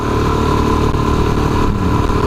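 Suzuki DRZ400SM supermoto single-cylinder engine with an aftermarket exhaust, revving loudly and steadily up close with a continuous throaty drone and no talk.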